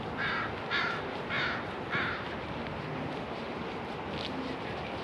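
Crows caw outdoors under cloudy skies, four harsh calls in a steady rhythm followed by a fainter fifth, heard over constant wind noise.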